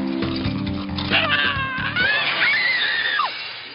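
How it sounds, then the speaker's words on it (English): A male dwarf character screams in a film scene, a strained, high wavering cry over background music and noise, rising toward the end before trailing off, loud and close. "That's the male dwarf screaming"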